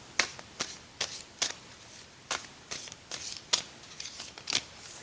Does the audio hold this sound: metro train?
no